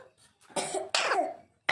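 A green parrot imitates a human cough, giving two rough, throaty coughs in quick succession at close range in a quiet room.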